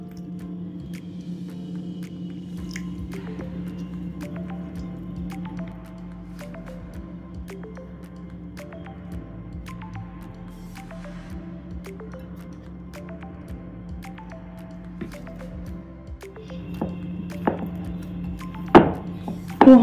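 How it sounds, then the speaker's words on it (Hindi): Dough for Italian fingers is kneaded by hand while water is added bit by bit, giving repeated soft squishes and dull thumps in an uneven rhythm over a low steady hum, a few louder slaps near the end. "अब इसमें थोड़ा थोड़ा पानी डाल करके इसका डो तैयार करेंगे"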